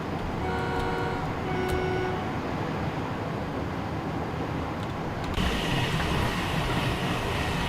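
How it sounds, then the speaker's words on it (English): An Intercity Express train on the East Coast Main Line in a train simulator game rushes past with a steady, loud roar and rumble, a few faint tonal whines early on, and a sudden shift in tone partway through. "Intercity Express train, I believe."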